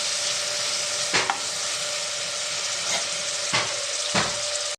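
Dried shrimp fry with onions in a hot pan, giving a loud, steady sizzle throughout, broken by a few scraping stirs.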